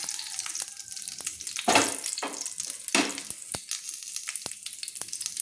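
Bay leaves and whole spices hit hot oil for tempering, crackling and sizzling close by in sharp bursts and pops over a steady background fry, with a few louder spurts as they settle.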